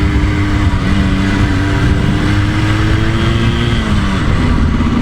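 A 1984 Yamaha RS 125 motorcycle heard on board while riding and leaning into a left turn, its small engine droning loud and steady with a slight pitch rise and dip near the end, no talk over it.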